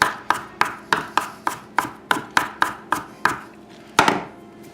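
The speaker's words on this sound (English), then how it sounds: "I'm going to cut it up a little because it's like so stringy" A knife chops sprouts for a vegetable salad on a cutting board, about a dozen crisp, evenly spaced knocks close up, with a final harder chop after a short pause.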